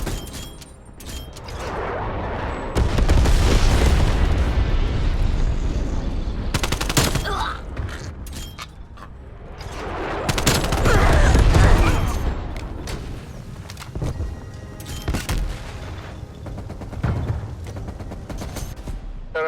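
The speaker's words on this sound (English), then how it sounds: "Z-trap, napalm strike inbound." A napalm strike in an anime battle scene: dense, continuous bursts of machine-gun fire and heavy booming explosions that swell and fade over nearly twenty seconds, loud and chaotic.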